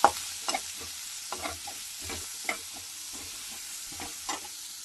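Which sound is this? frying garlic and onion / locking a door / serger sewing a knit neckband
frying garlic and onion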